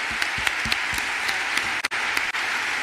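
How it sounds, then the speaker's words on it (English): Steady applause from a crowd, a dense wash of clapping with a few sharper individual claps standing out. "A round of applause, please, for Magdalena for an amazing interview"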